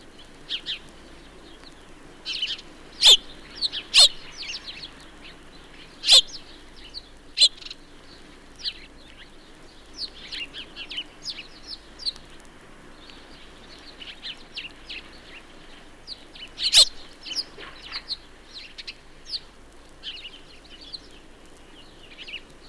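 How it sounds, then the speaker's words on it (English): House sparrows in a suburban back garden give sparse, faint chirps and a few sharper calls spread over a quiet background, with no voices. "The house sparrow is usually the commonest bird in the inner suburbs."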